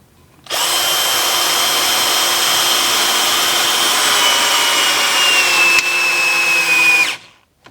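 KIMO T-20 cordless drill driver whirring loud and steady for about six and a half seconds, its motor pitch sliding down near the end before cutting out abruptly.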